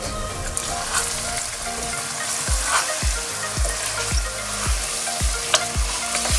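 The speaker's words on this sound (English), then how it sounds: "So now I'm gonna mix all the spices" Broiler chicken curry frying in a pan as spices are mixed in, a dense close sizzle with regular knocking thuds of the spoon against the pan in a steady rhythm toward the end.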